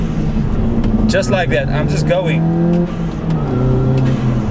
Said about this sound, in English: I'm gonna pull away and you'll be able to see just with minimal revs